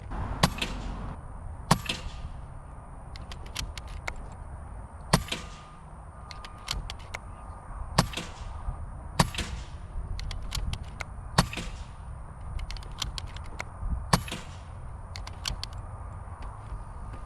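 Seven sharp cracks from a .22 caliber PCP air rifle, fired one at a time about a second to three seconds apart, each a short loud snap with a quick metallic ring, against a quiet outdoor background.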